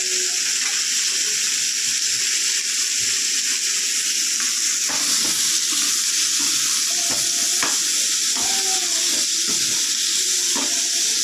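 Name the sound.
food frying in a kadai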